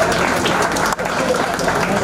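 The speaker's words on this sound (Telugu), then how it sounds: "clap clap clap" Audience at a school batch get-together function in Uravakonda clapping, a continuous loud patter of many hands with a brief dip midway.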